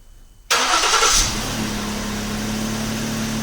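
A 2011-2015 Ford Explorer engine remote-starting: a quiet lull, then a sudden loud crank that catches and settles into a steady close idle hum.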